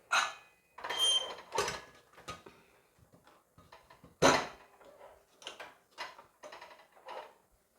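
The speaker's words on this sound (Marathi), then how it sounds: "कुकरचं झाकण लावूयात" A pressure cooker lid being fitted and closed over mixed dal khichdi: several sharp metallic clacks and scrapes in close succession, with one louder clank partway through, all near and without speech.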